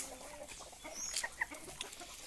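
Polish chickens clucking on a Brazilian farm raising giant Polish breeds, with soft, scattered clucks and calls over quiet outdoor background, moderately distant.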